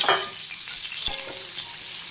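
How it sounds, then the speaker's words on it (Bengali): Cauliflower pieces fry in hot oil, giving a steady close sizzle with brief louder stirring scrapes near the start and middle. "এবার ভালো করে লাল লাল করে ভেজে নেব"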